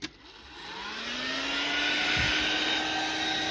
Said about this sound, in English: so I've got my heat gun here